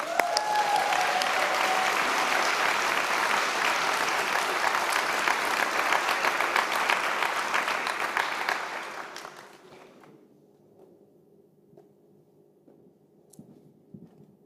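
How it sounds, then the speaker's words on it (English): Sustained applause from a gala audience at a Trans in the City event, loud and steady for about nine seconds, then dropping to faint scattered claps and room murmur. "You're going to get so many rounds of applause tonight"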